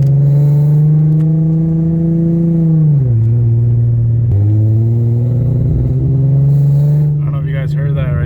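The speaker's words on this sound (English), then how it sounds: "it's sputtering really bad" A Nissan 350z, apparently with a VHR engine swap, runs roughly while pulled over, its engine hum wavering and dipping in pitch with a brief stumble partway through, loud and close.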